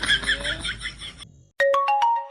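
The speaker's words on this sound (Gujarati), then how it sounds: "સાહેબ તમારા ફોન આવ્યો એમ લાગે છે." A phone ringtone plays a short, bright, melodic run of chiming notes, loud and close, after a burst of music or background sound that cuts off just before it.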